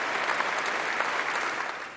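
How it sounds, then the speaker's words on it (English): Dignitaries and clergy applauding hundreds of Paris firefighters inside Notre Dame cathedral, a dense, steady wash of many hands clapping that fills the reverberant space without pause. "dignitaries and clergy rose to applaud the hundreds of Paris firefighters"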